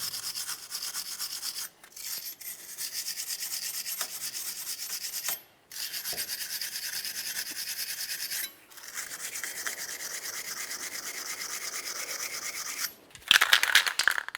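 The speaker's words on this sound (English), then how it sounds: "let's get in between the lug studs with this brush" Brush scrubbing the hub of a 2007-2012 Nissan Sentra between the lug studs, a steady close bristly scratching in long strokes with a few short breaks.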